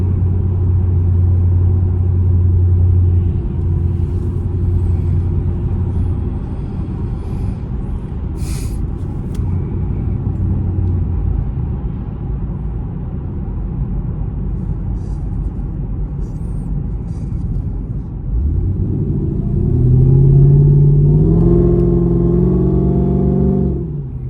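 Continuous low engine rumble and road noise from inside a moving Cadillac CTS-V on a highway, steady for a long stretch, rising slightly toward the end.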